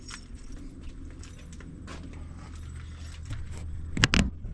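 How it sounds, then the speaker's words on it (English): Car keys for an LT1-swapped Jeep YJ jangle in a brief metallic burst near the end, after a quiet stretch of soft shuffling in a garage. "You go grab the keys."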